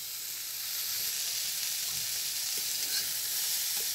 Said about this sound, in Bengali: করলাটা আমি হালকা করে ভেজে নেব